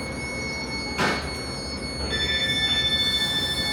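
A train rumbles steadily at a station, with a brief rattling clatter, high tonal whines and a rhythmic pulsing roll building as it moves.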